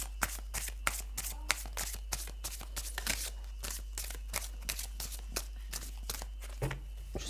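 A deck of tarot cards is shuffled for a reading in a brisk, continuous riffle of rapid crisp flicks and slaps, close and clear, with no talking.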